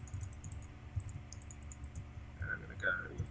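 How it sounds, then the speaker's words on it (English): Clicks from a computer mouse during a Minecraft building session, quick faint taps over a steady low hum with a couple of brighter clicks near the end. "Really loud mouse clicks."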